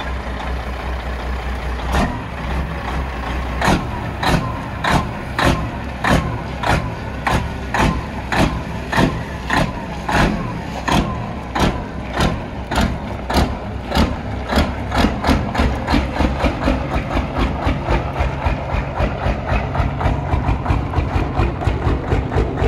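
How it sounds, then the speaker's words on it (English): A 1500 whp diesel truck does burnouts, its heavy engine pounding in loud rhythmic bursts that quicken and grow denser toward the end, close and alone without talk. "Diesel Burnouts."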